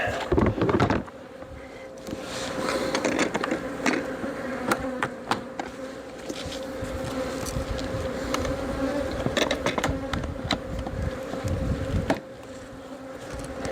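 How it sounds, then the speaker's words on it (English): A dense, continuous buzzing of many bees flying out of an Apimaye hive close by, steady throughout with a few faint clicks and knocks mixed in. "see the bees coming out of the Apimaye"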